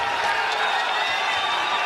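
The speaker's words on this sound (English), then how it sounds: "The crowd reacts to Kevin Randleman's aggressiveness." A large arena crowd at a UFC fight between Bas Rutten and Kevin Randleman gives a sustained, dense roar of reaction, loud and unbroken for the whole moment.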